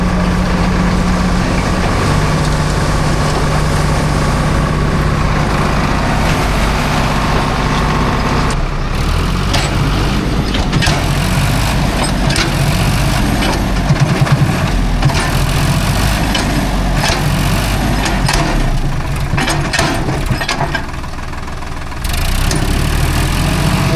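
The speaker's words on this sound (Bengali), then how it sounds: "অনেক জোরে চেষ্টা করছে, টানছে, চাকা ঘুরছে, বাট উঠছে না।" A 4x4 truck engine labours at steady high revs in a rural field, its wheel sunk in mud and spinning without climbing out; the loud, continuous drone runs throughout with no talk.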